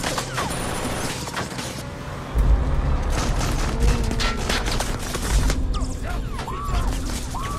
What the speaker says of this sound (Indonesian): Mobil mereka pun ditembaki secara brutal.